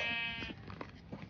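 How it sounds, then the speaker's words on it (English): A sheep in the Minecraft video game bleats once, a drawn-out wavering cry followed by softer trailing bleats, clear and close. "I made myself a little sheep."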